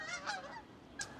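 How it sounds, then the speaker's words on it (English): Geese honk overhead in a cold winter garden in New York, two or three short nasal calls spaced apart, faint and distant, with no talking. "We have some geese flying above me."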